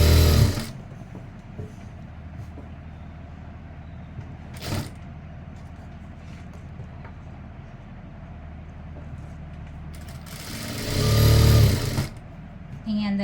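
Sewing machine stitching a chudithar lining in short bursts: a brief whir at the start, a quick one midway, and a longer, louder run near the end, with someone talking in between.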